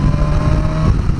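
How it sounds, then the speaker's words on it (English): A BMW S1000XR motorcycle rides through the Bavarian Alps, its engine holding a loud, steady, close drone throughout the brief moment. "Another thing I do like about this XR is the way the engine sounds."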